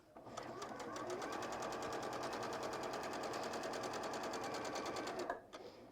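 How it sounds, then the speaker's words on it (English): A sewing machine stitches fabric in a steady, rapid needle rhythm for about five seconds before stopping abruptly, heard close but quiet. "so I've sewn down the middle bit."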